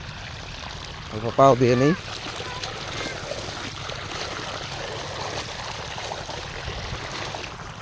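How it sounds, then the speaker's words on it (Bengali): Water pouring and trickling from a pipe into a flooded paddy field in a rural village, a steady broadband rush running throughout with a brief voice speaking over it early on. "ওই যে দেখো পাইপ দিয়ে কত দূর থেকে জল আনছে"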